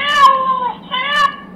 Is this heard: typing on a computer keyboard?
no